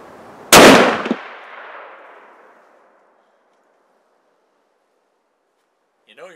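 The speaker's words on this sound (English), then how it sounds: "First shot with the new 600." A single loud rifle shot from a 350 Rem Mag, a sharp close crack with a short echo that fades over about two seconds, then quiet.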